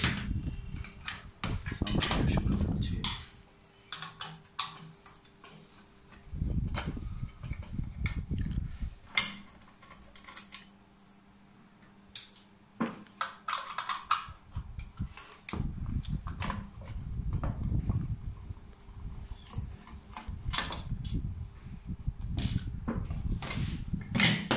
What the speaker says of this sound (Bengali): আরও দুটো স্ক্রু আমাদের খুলতে হবে, এটা ব্যাটারির ব্যাটারি টেকে ধরে রেখেছে।